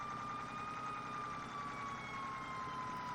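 Steady wailing sirens from a Freightliner fire truck in the Farming Simulator 17 video game, a continuous, moderately faint tone held without a break under a low rumble of engine noise.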